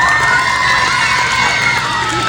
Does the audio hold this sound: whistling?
no